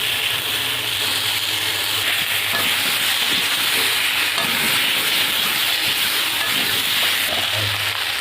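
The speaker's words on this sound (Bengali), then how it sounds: "আলু আর কলাটা ভেজে নেব।" Potato and banana pieces frying in oil in a pan, giving a steady, loud broadband hiss and sizzle that runs unbroken throughout, with no talk.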